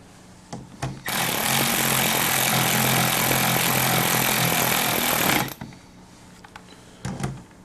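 A loud, steady power-tool whir runs for several seconds while bolts are tightened on a Mercury 2-stroke outboard water pump, with brief clicks and knocks before and after, close up.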